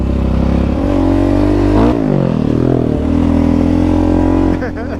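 A small dirt bike revs and buzzes around a tiny pee-wee track at an OHV park, engine pitch climbing and dropping between gear changes, loud and close, with riders' voices mixed in.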